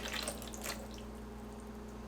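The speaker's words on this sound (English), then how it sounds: "Let's dump out the water." Water splashes out of a Chemex glass coffee maker into a sink, a short splashy pour near the start with a few drips after, then it fades into a quiet room hum.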